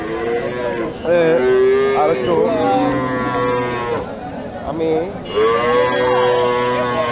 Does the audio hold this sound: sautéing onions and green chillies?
no